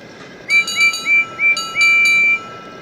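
A voice imitates a train whistle: five short rising toots in a quick series, the last drawn out longer, over faint background hiss.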